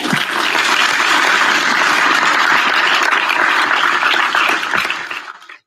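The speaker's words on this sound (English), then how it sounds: "a round of applause for all our participants for their participation." Sustained applause for participants of a live COVID-19 quiz show, a dense, steady wash of many hands clapping at full strength before tapering off abruptly near the end.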